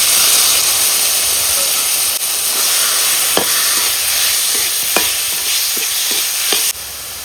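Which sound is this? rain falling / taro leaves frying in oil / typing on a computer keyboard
taro leaves frying in oil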